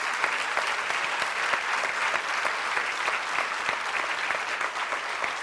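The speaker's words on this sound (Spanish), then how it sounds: "Denle un aplauso al Señor con todo su corazón." A church congregation claps steadily and loudly, a dense, continuous wash of applause from many hands with no pauses.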